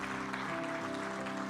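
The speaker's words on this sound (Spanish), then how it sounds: "le damos un fuerte aplauso" A church congregation claps together in a dense, steady burst of applause, with a faint sustained musical tone running underneath.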